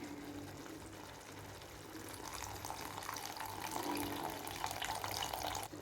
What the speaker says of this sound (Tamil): இப்போ வந்து நான் புளி தண்ணி இது கூட ஆட் பண்ணிக்கிறேன்